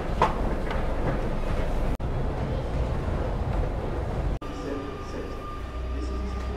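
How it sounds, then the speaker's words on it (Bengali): A train in France, apparently a double-decker, gives a steady low rumble of carriage and track noise that runs continuously through two abrupt cuts, with a faint mix of voices underneath. "এটা তো ট্রেন নাকি?"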